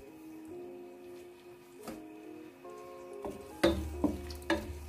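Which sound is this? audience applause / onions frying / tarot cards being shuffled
onions frying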